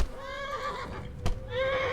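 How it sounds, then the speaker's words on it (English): Horses whinny in the medieval role-playing game Kingdom Come: Deliverance, with two drawn-out wavering neighs separated by a brief thud, fairly close and clear over a low background rumble. "we gotta free the horses."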